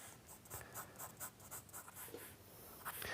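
HB pencil strokes rasp across paper in a series of short vertical scratches, each stroke a soft, dry scrape repeating at a quick, uneven rhythm, close up and quiet.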